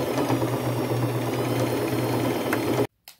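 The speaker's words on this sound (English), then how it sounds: "I'm just going to do a straight stitch with 1/4 inch seam allowance down" A sewing machine runs a straight stitch down the sides of a denim bag made from thrifted jeans, a steady close whirring drone for nearly three seconds that then stops abruptly.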